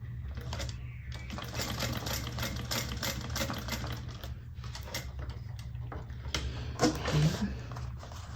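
A sewing machine top stitches a bag, the Alicia Bag, in a continuous, even run of rapid stitching over a low steady hum, close and moderately quiet.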